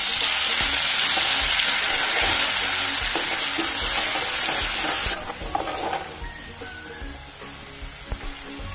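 Loud, dense sizzling of ground green chili paste hitting hot oil for besan vadi, easing into a softer crackle with a few stirring knocks, no voices.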